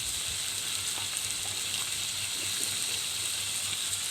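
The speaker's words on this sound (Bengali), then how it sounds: "মশলাটা কষিয়ে নিচ্ছি।" Turmeric, coriander and chili powder sizzling in oil in a pan for a puti fish curry, a steady close hiss of frying that runs evenly throughout with no talking.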